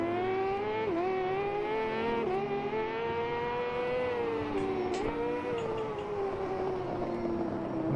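Racing motorcycles in the GP Bikes game during a WSBK round, a loud high-revving engine whine with sustained harmonics that dip and climb through gear changes, continuous and close.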